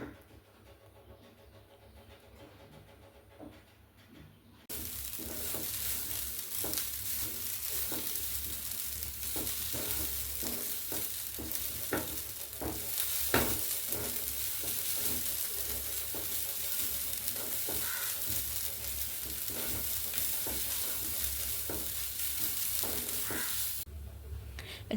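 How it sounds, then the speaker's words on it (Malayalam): Frying on a low flame for a potty curry: after a few quiet seconds a steady, dense hiss of sizzling oil sets in and runs on evenly, speckled with small pops and crackles, ending abruptly. "നേരി തീയിൽ വറുത്താൽ മതി കേട്ടോ."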